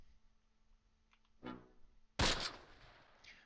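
Gunfire in the Close Combat WWII strategy game: a faint distant shot, then a sharp loud crack with a decaying rumbling tail, heard alone.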